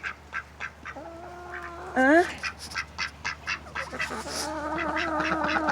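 A duck in a chicken coop quacks in a run of short, repeated calls, with a louder drawn-out quack in the middle, close by; a person briefly speaks over it.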